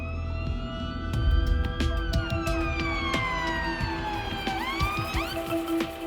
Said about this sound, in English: Fire engines are arriving.